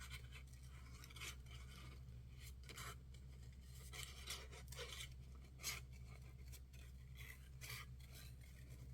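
Scissors fussy cutting paper for a collaged greeting card, very quiet close snipping and rasping strokes in an irregular rhythm over a steady low hum.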